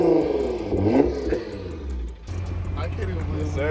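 An 800HP Nissan GT-R sports car revving loudly up close, the engine note rising and falling in quick bursts while excited voices talk over it.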